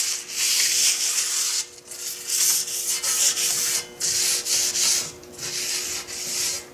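A modified Harbor Freight 4x36 belt sander grinds thick steel in repeated loud rasping passes, each stroke rising and easing off in a regular rhythm over a steady motor hum.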